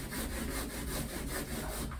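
A brush spreads oil across grooved wooden deck boards on a narrowboat under construction, making steady rhythmic scrubbing strokes that sound close and continuous, with no talking.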